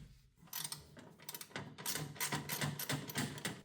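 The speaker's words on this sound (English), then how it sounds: "It's a 13mm socket to remove this nut and bolt." A 13mm socket ratchet loosening the damper nut and bolt on a Miele washing machine, clicking in rapid, uneven bursts of close metallic ticks.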